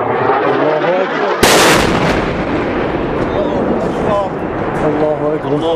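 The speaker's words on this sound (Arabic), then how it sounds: "قصف براميل متفجر على مصيف سلمى" Barrel bomb shelling strikes Salma in Latakia: a loud, sharp blast erupts after a stretch of shouting, followed by a rumbling aftermath under continuing excited voices.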